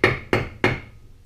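Three evenly spaced, sharp hammer strikes drive a bolt into silicone grip tubing on a flow prop, each a loud close knock with a short ringing decay, the last fading out alone.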